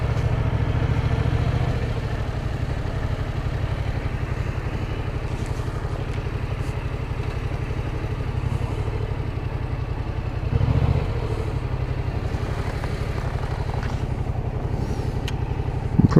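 A Yamaha MT07 motorcycle engine idling nearby, a steady low throbbing rumble with light mechanical clatter, one short swell partway through, and no talk.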